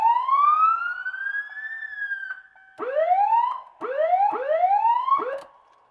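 An ambulance-converted camper's emergency siren sounds loud and close, first a long rising wail, then a series of quick repeated whoops.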